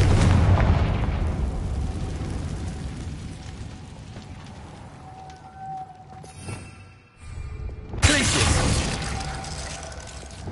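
A Confringo fire spell bursts in the video game Hogwarts Legacy, a broad booming blast rising out of steady game ambience toward the end, with voices talking around it.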